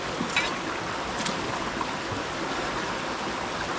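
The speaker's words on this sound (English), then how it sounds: "because I've got flowing water through here and just water in general" Water flows steadily through a gold sluicing site in New Zealand, a constant broadband rush with a few faint splashes and knocks.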